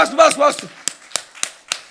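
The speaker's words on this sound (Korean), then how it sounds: "박수." A brief voice during a church service gives way to a handful of sharp, isolated hand claps spaced roughly a third of a second apart, fairly close and crisp.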